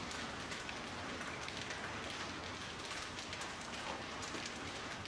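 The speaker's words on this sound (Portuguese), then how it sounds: "Passou aí por esse sufoco de muita chuva, gente, muita chuva." Heavy rain mixed with hail pours down over São Paulo as a dense, unbroken roar of drops drumming on surfaces, loud and constant throughout with no pauses.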